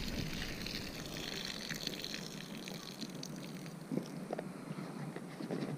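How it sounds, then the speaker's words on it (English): Water soaking peeled potatoes is drained off for a catfish stew, a steady splashing pour and gush lasting several seconds with a few sloshes, moderately close and without voices. "Now I'm gonna drain the taters."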